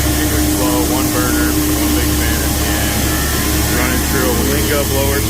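Steady loud drone of a 24-foot Rock Super B grain dryer with one burner and one big fan, feeding a Linga blower system during corn harvest, a continuous broadband roar with low engine hum and faint voices underneath.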